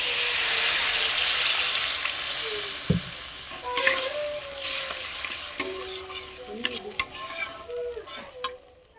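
Water is poured into sizzling grape chutney in a pan, a loud broad hiss that gradually fades, followed by light clinks and scrapes of stirring.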